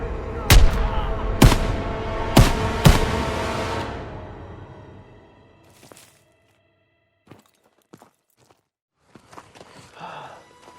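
Four loud, sharp rifle shots ring out in Call of Duty: WWII, spaced about a second apart with echoing decay, followed by faint scattered clicks and rustles in near silence.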